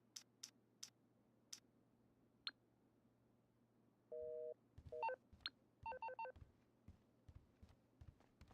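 Phone dialing inside the video game GTA 5: a few sharp clicks, then a short steady tone and a run of quick electronic beeps and keypad tones, faint and sparse over a low background hum.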